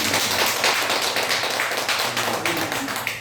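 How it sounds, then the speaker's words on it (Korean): A church congregation gives a brief burst of steady, moderately loud hand clapping that fills the room. "박수 한번 해주세요"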